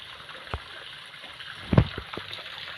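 Water cascading into a natural rock pool on the Narmada riverbank, a faint, steady trickling wash with a few soft splashes and knocks.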